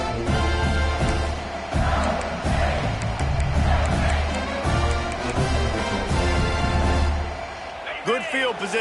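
Video game football crowd roars and cheers after a punt return, a broad sustained wall of stadium noise that swells and then tapers, under a play-by-play commentator talking throughout.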